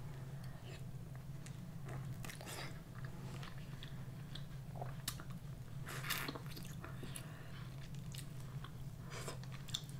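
Dungeness crab with seafood butter sauce is eaten close to the microphone, with wet chewing, squishes and scattered crunchy bites and shell cracks over a low steady hum, quiet overall.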